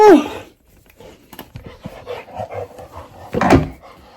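A dog makes short yelps and whimpering noises close by, mixed with a person's voice and some handling bumps.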